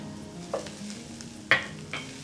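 Onion, celery and minced garlic sauté in a pan with a steady sizzle, broken by a few sharp scrapes and clacks of stirring, close and fairly loud, with no voices.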